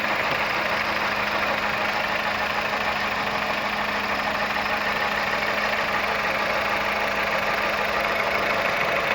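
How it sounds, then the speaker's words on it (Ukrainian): A 2010 Volkswagen Golf 6 1.4 MPI petrol engine idling close by, a constant low hum with an even, slightly rough mechanical rhythm and no change in pace throughout. "Ну, ідеально двигун працює."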